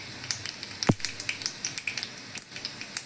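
Chopped garlic frying in a pan for kurdi bhaji, a close, crisp sizzle with scattered pops and crackles spattering in an uneven rhythm, plus one soft thud early on.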